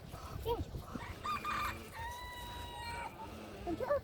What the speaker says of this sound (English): I'm terrified of that chicken right now.